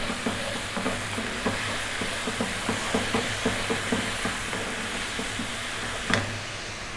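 Ground garam masala, chili, turmeric and cumin sizzling in hot oil in a pan, a steady close-up hiss with rhythmic scraping as the spices are stirred, one louder knock near the end.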